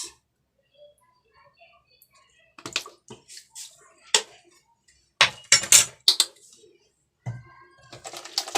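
Ingredients for a crispy chicken broast leg piece recipe are mixed with soy sauce in a bowl, giving sharp clinks and clatters of a utensil against the bowl in irregular bursts, close and fairly loud, with quiet gaps between.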